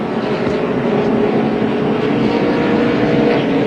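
A NASCAR stock car at the 2006 DirecTV 500 at Martinsville revs hard and pulls away, a loud, sustained engine roar close up with no pause.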